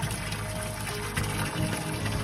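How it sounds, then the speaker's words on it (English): Water pours steadily into a tank, a continuous gushing, rushing flow at close range with no pauses. "Now filling more water and the level you see increasing it."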